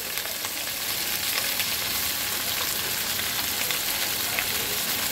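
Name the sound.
bottle gourd added to sizzling pan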